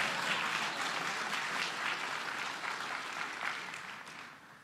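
Dense, steady applause from a ShmooCon conference audience, many hands clapping together without a break, slowly tapering off toward the end.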